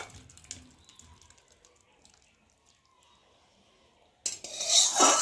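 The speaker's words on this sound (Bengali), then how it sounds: "তো চলো আমি এখন ঢেলে নিই কড়া থেকে বাটির মধ্যে" Aloo posto, a potato and poppy seed curry, poured from a wok into a bowl: near silence gives way to a sudden loud burst of scraping and clattering at the end.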